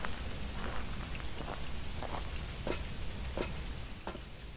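Steady rain patters outside a farmhouse in the horror game Phasmophobia, a soft continuous hiss with scattered faint drips and clicks and no talking.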